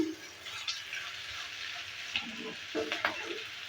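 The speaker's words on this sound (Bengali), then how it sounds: "এভাবে করে একটু নেড়ে চেড়ে দিচ্ছি" Ivy gourd (kundru) frying in a pan over low-medium heat, a steady close sizzle broken by a few scraping stirs of a spatula, no voices.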